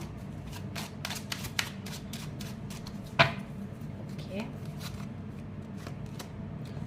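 Tarot cards are shuffled by hand in quick, crisp riffling bursts with one sharper snap midway, while a voice speaks briefly in the background.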